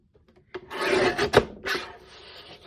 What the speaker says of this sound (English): let's trim this up on this side